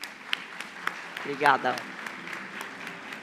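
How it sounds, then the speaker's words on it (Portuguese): Sparse, moderate applause from an audience at a finance executive conference welcoming a Federal Police delegate to the stage, with individual claps standing out and a brief spoken word near the middle. "Vamos recebê-lo com aplausos."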